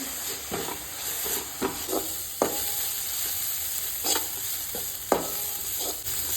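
A medium-sized onion frying in a pan for a Goan egg drop curry: a steady sizzle and hiss runs throughout, broken by repeated stirring scrapes at irregular intervals, close and clear with no talk.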